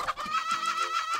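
Chicken clucking from the video game Snipperclips, a quick run of close, bright clucks over about a second, heard clearly without any talk.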